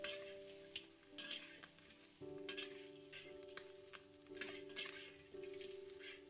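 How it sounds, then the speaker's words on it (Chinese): Pig trotters stir-fry dry in a pan to drive off their water, a faint, low sizzle with occasional clicks of a utensil and a steady tonal hum beneath. "把猪脚炒干水分"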